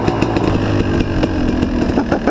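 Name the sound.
KTM 300 XC dirt bike engine running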